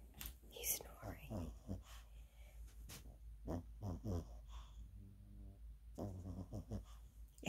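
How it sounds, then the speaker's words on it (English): A man snoring in bed early in the morning, with soft, irregular wheezing snorts spread across the stretch and quiet whispered talk nearby. "He's snoring."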